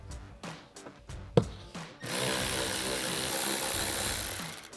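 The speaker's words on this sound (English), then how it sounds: "we'll grab an 8 millimeter socket for the bolt behind it" Several short clicks and taps from an 8 mm socket being worked onto a bolt during a rear brake light install on a Silverado 1500, followed by a sudden loud, steady broadband whir, close and alone with no talk.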